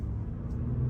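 A Honda Pilot TrailSport SUV engine accelerates in econ mode while pulling into traffic, a steady, subdued low rumble heard from inside the cabin with no talk.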